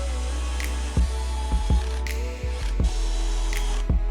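Lag screws are tightened into a modular wooden staircase with a clicking tool, giving a series of sharp mechanical ticks at a steady, unhurried pace over a constant low hum close by.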